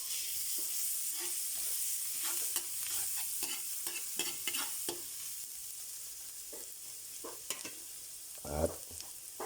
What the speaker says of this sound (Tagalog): Magigisa na po tayo para sa ating kaldereta. Lagyan natin yung butter. Lagyan na rin natin itong bawang.